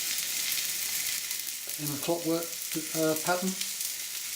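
Ox cheeks sear in a hot pan with a steady, fairly loud broadband sizzle throughout, while someone talks over it in the middle of the clip.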